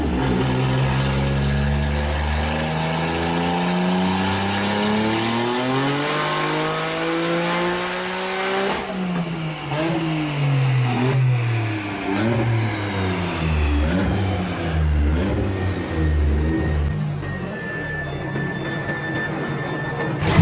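A turbocharged three-cylinder Toyota GR Corolla engine revs hard and loud, pitch climbing steadily through the gears with a shift break midway, then continuing to rise and settle, close-up and with no talking.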